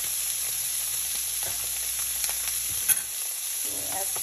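Salmon frying in a pan alongside asparagus, a steady close sizzle with a few scrapes and clinks of a utensil partway through.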